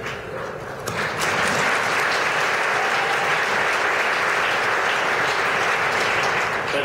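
Conference crowd breaking into applause during a governor's speech on immigration, a sudden loud swell of many hands clapping that holds steady and full for several seconds.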